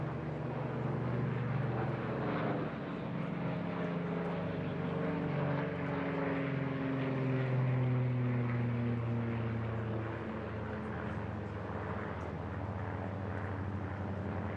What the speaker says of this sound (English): The 19 carrying a Griffin engine. You hear that distinctive growl.